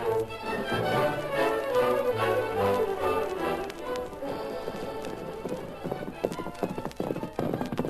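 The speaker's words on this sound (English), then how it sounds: "Rider on horse, one man. Heading this way." Hooves of a single horse carrying a rider clip-clop at a steady walking rhythm, growing more distinct as it approaches, with a whinny and scattered taps in an outdoor Western scene.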